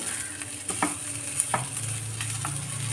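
Pepper and curry leaf mutton chukka is stirred in a hot pan, with spoon scrapes and knocks over a steady sizzle, close by and without speech.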